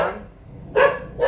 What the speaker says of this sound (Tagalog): Yan, nakikita ng mga aso. Nagtahulan na.